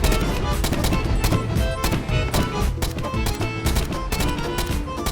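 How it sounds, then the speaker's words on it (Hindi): Rapid gunfire in Minecraft aimed at the Ender Dragon: dense, loud bursts of automatic shots stacked over game music and effects, continuous throughout with no talking. "इसको गन से ही मैं भून देता।"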